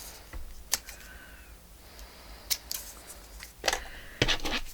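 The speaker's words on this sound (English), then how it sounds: "let's cut it in half. There we go, we'll push it over there and cut it in half" Scissors slicing through a master board, a handful of quiet, separate crisp snips spaced over a few seconds with soft handling noise between them.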